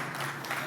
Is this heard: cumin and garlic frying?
no